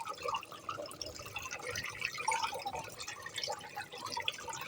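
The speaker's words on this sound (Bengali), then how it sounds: "ধুয়ে চালনে উঠিয়েছি এবং চালনে পানি ঝরিয়ে নিব" Water drips and trickles steadily from freshly washed helencha greens draining in a colander, a close, busy patter of small splashes with no talk.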